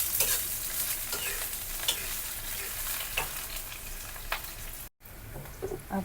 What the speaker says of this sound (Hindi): एक प्याज और थोड़ा सा लहसुन काट के डाल रही हूँ। ऑयल डाल देती हूँ।